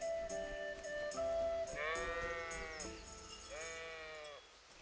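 Sheep bleating in the video game Kingdom Come Deliverance, two or three wavering, drawn-out bleats over quiet ambient game background with faint clicks.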